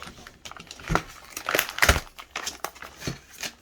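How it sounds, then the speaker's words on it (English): Plastic packaging for a pair of billet aluminum Can-Am Ryker sway bar end links is torn and crinkled open by hand in a close, irregular run of crackles and rustles with a louder burst near the middle. "let's open the package up and see what all we get in there."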